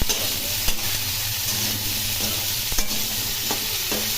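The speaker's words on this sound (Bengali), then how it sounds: "আলু মিষ্টি কুমড়ো একটু ভালো করে ভেজে নেব" Potato and pumpkin pieces frying in hot oil with garlic for a spinach curry, a low, steady sizzle broken by a few sharp spatula clicks, with no talking.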